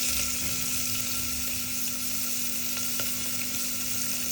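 Finely chopped onion frying in a tempering of oil with red chilli and curry leaves for masala khichdi, a steady close sizzle running throughout without pause, no talking.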